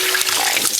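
Running water from a tap for washing tea-dyed yarn: a steady, loud, close rush of flowing water with no talk over it for the whole brief stretch.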